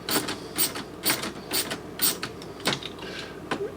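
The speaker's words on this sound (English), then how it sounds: "it's got adjusting screws right here, and we're going to back these out a bit" Adjusting screws on a refrigerator door latch being backed out, giving a close, quiet series of rhythmic ratcheting clicks and creaks, roughly two per second.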